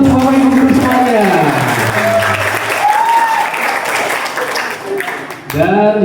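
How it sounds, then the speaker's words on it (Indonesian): A school audience at a talent exhibition at a boarding school in Cianjur claps for the teachers, loud sustained applause filling the hall while an amplified voice speaks over it, dipping briefly near the end before swelling again. "Tepuk tangan untuk Bapak Ibu Guru semuanya."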